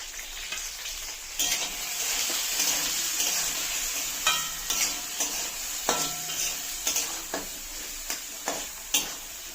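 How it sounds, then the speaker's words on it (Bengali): Chopped carrot, capsicum and peas stir-frying in a pan for a vegetarian dalia khichuri, with a steady sizzle throughout and a series of sharp utensil scrapes and taps in the second half. "গাজর কুচি ক্যাপসিকাম ক্যাপসিকাম কুচি একসঙ্গে ভেজে মটরশুটি সব একসঙ্গে দিয়ে ভেজে নেবো"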